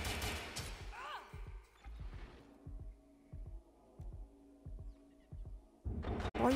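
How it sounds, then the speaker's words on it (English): Gunfire aimed at the player in the Zero Day video game, a string of spaced single shots at a steady rhythm, fairly quiet, with a burst of louder sound at the start and end. "Why are you shooting me this time?"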